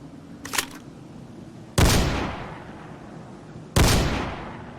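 Two heavy, booming gunshots from a post-apocalyptic video game ring out a couple of seconds apart, each with a long fading tail, preceded by a small sharp click.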